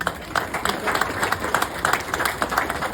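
A crowd claps steadily at an American Legion Gold Star Families memorial monument reveal. The applause is dense and sustained, with voices mixed in.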